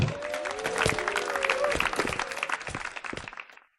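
A Fortnite emote's crowd claps and cheers for a high score in a dense burst of applause, with a faint whistle-like tone early on, cutting off abruptly at the end.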